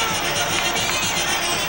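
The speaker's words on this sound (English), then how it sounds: "the noise will begin to swell as he enters the ring" Dense, steady roar of a large boxing arena crowd as a boxer enters the ring for the Julio Cesar Chavez vs Meldrick Taylor fight, a continuous wash of cheering and babble at even loudness.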